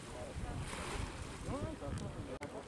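Surf breaking at Pantai Tirang beach in Semarang, a steady broadband wash of waves with gusty wind noise buffeting the microphone, continuous and fairly close, no voices.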